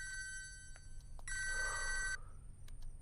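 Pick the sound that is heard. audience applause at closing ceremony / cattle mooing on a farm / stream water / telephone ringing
telephone ringing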